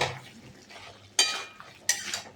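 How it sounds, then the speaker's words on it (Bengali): Fish and elephant foot yam curry being stirred in a pot, with two short, loud scraping bursts of a spoon against the metal over a quiet low simmer. "ঢাকনাটাকে আলাদা করে একটু নাড়াচাড়া করে নেব।"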